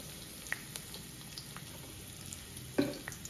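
Mustard seeds, curry leaves and asafoetida sizzle in hot oil in a kadhai with a soft steady hiss, scattered small pops and a sharper crackle near the end, close by and with no one talking.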